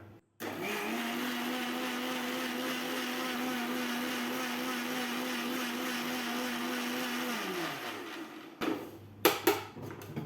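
A kitchen blender whirs loudly at a constant pitch while blending mushroom pizza ingredients, running steadily for several seconds before winding down and stopping, followed by a few sharp clunks and knocks.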